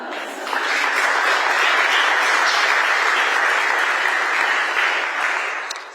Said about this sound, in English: It's nice that you get a clap here.